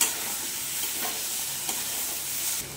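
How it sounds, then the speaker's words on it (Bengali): Tomato paste stirred and fried with chopped banana stem in a pan, a steady close sizzle with scraping spatula strokes throughout, no voices. "এবার টমেটো পেস্টটা দিয়ে সুন্দর করে কষে নিই।"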